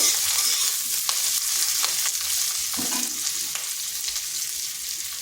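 A small quartered onion frying lightly in oil makes a steady bright sizzle up close, with occasional soft stirring knocks and scrapes mixed in.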